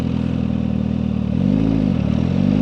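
A Suzuki GSX-R 1000R motorcycle pulls away in first gear, its engine droning steadily close by and then rising in pitch as it revs harder through the second half.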